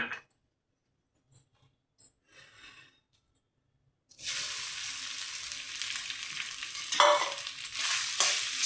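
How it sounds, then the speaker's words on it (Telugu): Grated coconut fries in a pan for rava laddu, a quiet start with faint clicks, then a sudden loud sizzling hiss with scraping stirs as the coconut goes in, continuing close and steady. "ఇప్పుడు కొబ్బరి తురుము కూడా వేసి వేయించేసుకుందాం."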